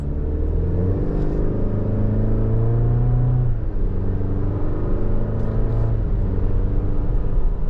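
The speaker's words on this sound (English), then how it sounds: "And the Turbo Max gets it right up to speed, no problem." A 2025 Chevrolet Colorado Z71 truck with the Turbo Max engine and 8-speed automatic pulls away, its steady engine hum and low road rumble rising in pitch as it gathers speed, with a shift audible partway through, heard from inside the cab.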